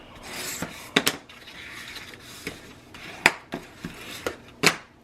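Chipboard covers and folded paper being burnished for an accordion binding, heard as a series of close, sharp rubbing and scraping strokes with irregular clicks and taps, some louder than others, and no talking.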